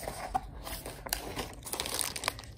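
Crinkling, crackling plastic and paper parcel packaging being handled and opened up close, in short irregular bursts, while unboxing a Logitech keyboard.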